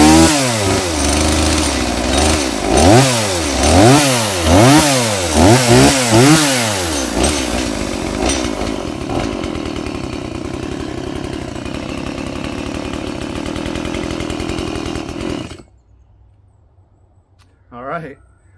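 STIHL chainsaw fitted with a Chinese replacement engine, running loud and close with a few revving surges before settling into a steady idle, then cut off to near silence with one brief later noise.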